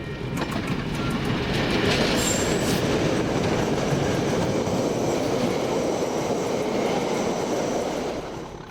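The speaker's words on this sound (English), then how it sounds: "Two visiting locomotives from the diesel traction group at Ferrymead made their way to Dunedin for the occasion." Diesel locomotives on the Taieri Gorge Railway, a loud continuous rumble of engines and rolling rail cars with a brief high wheel squeal early on, steady before fading slightly at the end, no voices.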